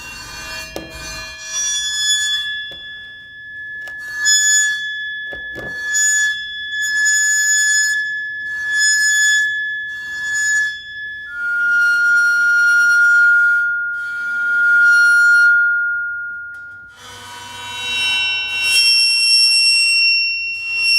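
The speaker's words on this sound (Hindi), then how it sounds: "अलग फ्रीक्वेंसी की ध्वनियां धातु के प्लेट में कंपन पैदा करती हैं" Tones of different frequencies drive a vibrating metal plate, heard as piercing, sustained electronic pitches that shift from one steady tone to the next, loud and shrill with short breaks between them.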